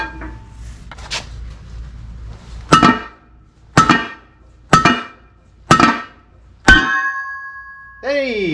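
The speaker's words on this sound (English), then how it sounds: "I'm going to try to hit it with a dead blow hammer a few times just to see if it pops through" A dead blow hammer strikes an early Ford brake drum hub five times, roughly a second apart. The blows are loud and close, and the last one leaves a metallic ring. A brief, lighter sound follows.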